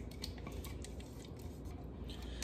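Ingredients with fresh garlic being stirred together in a bowl for a barbecue chicken dinner, giving close, steady clinks and scrapes of a utensil against the dish without pause.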